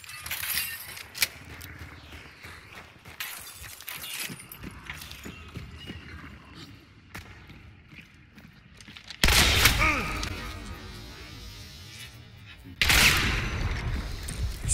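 Shotgun blasts in Hunt: Showdown, with two loud, sustained booming bursts in the latter half that follow quieter scattered impacts and thuds. Voices talk faintly in the earlier stretch.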